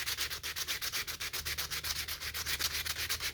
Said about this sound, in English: Then you get your sandpaper out and you see what you did.